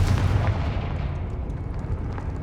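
The Confringo blasting curse in the Hogwarts Legacy video game goes off as a heavy, booming explosion that rumbles steadily and loudly across the whole short moment.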